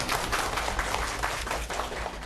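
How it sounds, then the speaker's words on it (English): A crowd applauds continuously, a dense, even wash of many hands clapping at once with no voices. "Let's hear a massive round of applause for Drew McAdam."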